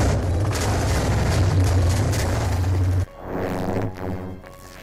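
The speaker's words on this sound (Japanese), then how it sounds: "跡形もなく爆発してしまった。" Minecraft TNT blast wrecking a mansion: a dense, loud roaring rumble fills the first three seconds, then cuts to a thinner, tonal game sound with some crackle, no speech.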